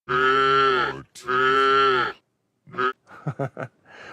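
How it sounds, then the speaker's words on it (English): Two long, loud cow moos close by from a creature sound design instrument, followed by a short pause and a few quicker, choppier mooing grunts. "we can add in, let's say, another cow moo"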